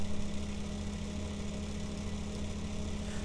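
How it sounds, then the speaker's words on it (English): A Bedini motor kit with ferrite magnets runs steadily near about 2200 RPM, giving a faint, even hum with a constant low tone and no breaks. "keep going real slow until the motor gets really quieted down"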